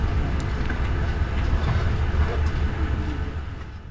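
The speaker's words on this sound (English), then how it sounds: "this French TGV having just exited the line on a service from Lille" A French TGV high-speed train on a Belgian railway line, a steady loud rumble with faint rhythmic clatter of wheels on track, continuous and close, easing slightly toward the end.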